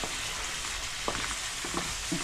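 Spices frying in a pan with red onion for a potato curry, a constant close sizzle with a few soft stirring clatters and no voices.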